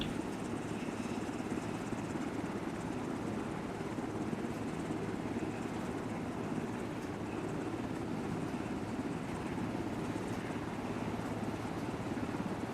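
Military helicopter in an Arma video game powering up for takeoff, a steady loud rotor and turbine drone holding without a break throughout.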